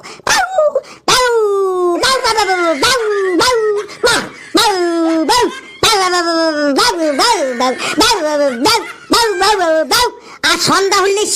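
A human voice in a cartoon imitates a dog barking, delivering a long run of loud, close, rhythmic yelping barks with short gaps between them.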